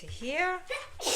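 A single sneeze bursts out loudly right after a voice during a home sewing session, a brief breathy, hissing blast closing the moment.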